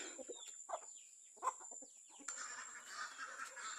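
Native chickens and black Australorp hens cluck and cackle in a farmyard pen, several birds overlapping in short bursts at moderate distance, with a faint steady hum behind them.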